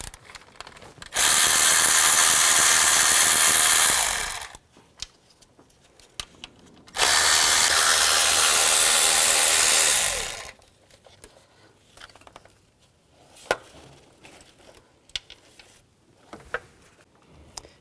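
Power tool whirring in two sustained bursts of several seconds each while loosening the 10mm valve cover bolts on a 2003-08 Nissan Maxima, followed by quieter clicks and handling noises of the socket and bolts.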